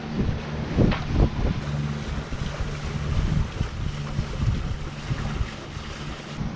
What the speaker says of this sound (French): Un beau voilier qui marche bien au moteur.